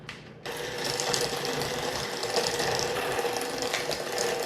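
Sugar, cinnamon and flour being mixed into a crumbly topping for an apple cheese crisp, heard as a loud, continuous mechanical whirring and rattling close by, starting abruptly and running steadily without pause.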